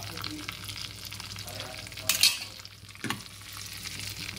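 Tempering for dal frying in a pan, a soft continuous sizzle and crackle heard close, with a brief burst of sharper spitting midway and a quick scrape or stir soon after.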